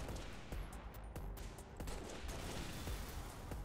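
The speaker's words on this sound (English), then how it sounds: "I want you to keep firing that turret." Sustained turret fire in Halo: Reach, a dense continuous rattle of rapid shots that stays steady and fairly quiet throughout, with no talking.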